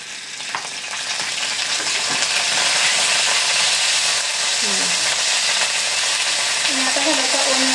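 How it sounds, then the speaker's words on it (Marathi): Ginger garlic paste fries and sizzles in a hot pan as it is stirred, a steady loud hiss with occasional scraping of the spoon, no talking over it. "त्याच्यामध्ये ही जिंजर गार्लिक पेस्ट टाकायची."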